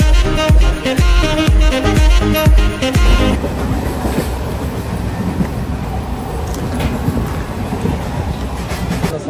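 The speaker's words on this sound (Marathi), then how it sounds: "लोकल एक्सपिरियन्स आहे, पूर्ण लोकल ट्रेन सारखी ट्रेन आहे," Interior of a moving local passenger train on a Konkan-region trip, with loud rhythmic rumbling and clacking that gives way to a steady roaring rattle of the carriage.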